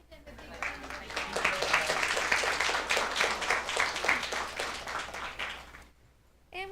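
Audience applause at a school board meeting, a broad sustained wash of many hands clapping at moderate distance, fading out near the end before a voice returns briefly.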